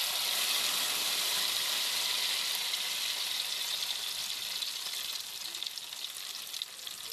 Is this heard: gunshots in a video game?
no